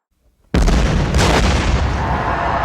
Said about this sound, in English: From this constant bombing happening.